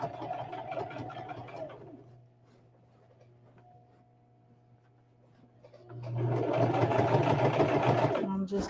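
A sewing machine runs along a Christmas stocking seam in two close rapid whirring bursts, with a quiet motor hum in the pause between.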